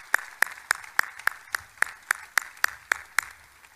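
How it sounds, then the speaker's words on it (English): Clapping at a U.S. Army redesignation ceremony comes as a sparse, evenly timed series of about a dozen crisp handclaps, close and moderately loud, with quiet gaps between them. "Please give them another round of applause."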